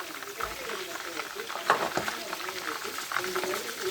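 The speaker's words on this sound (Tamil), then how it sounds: "இப்போ வந்து நான் தக்காளி பழத்தை போட்டுக்கிறேன்" Tomatoes fry in oil for mutton biryani with a soft, continuous sizzle and stirring scrapes, close by, while a voice talks over the cooking.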